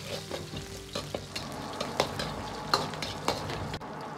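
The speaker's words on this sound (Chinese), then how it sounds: "接着下入控干水分的香料，炒出香料里边多余的水分" Drained spices stir-fried in a wok with rapeseed oil, ginger and scallion for potato-braised pork intestines make a low sizzle punctuated by spaced, crisp scrapes and clanks of a spatula against the metal.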